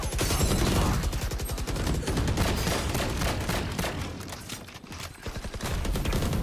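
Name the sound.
gunfire in the video game Valorant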